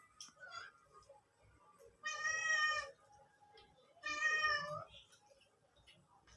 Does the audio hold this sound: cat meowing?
yes